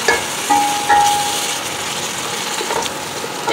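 Sliced onions gone light golden sizzling in a pan with a spoonful of ginger-garlic paste added, a steady loud frying hiss with light stirring scrapes throughout.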